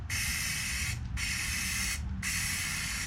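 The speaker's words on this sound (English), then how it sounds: "you just kind of do light coats, and you kind of spray past" Spray can puts light coats onto pluck foam for a camera case in three steady bursts of about one second each, close and hissing, with short gaps between them.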